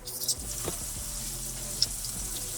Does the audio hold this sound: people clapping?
no